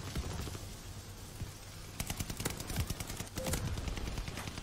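Continuous automatic gunfire in a console video game, rapid rattling bursts at a moderate distance that grow denser midway, with no talking.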